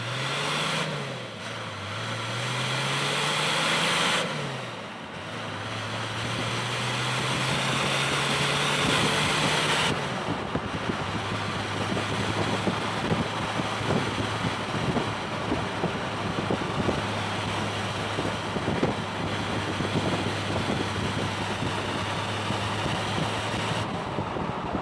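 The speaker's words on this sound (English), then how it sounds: "I'm gonna put the microphone a lot closer to the exhaust so we can actually hear what it sounds like from the back" The stock exhaust of a Toyota Land Cruiser, heard up close from the rear, rises and falls with a couple of revs, then settles into a steady low drone under wind noise.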